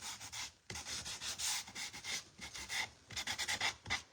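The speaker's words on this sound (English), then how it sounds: "now I can distress some of the edges." Wood edges being distressed by hand with 80 grit sandpaper on a bunny Easter décor piece, a close, steady scratchy rubbing in repeated strokes with a brief pause near the start.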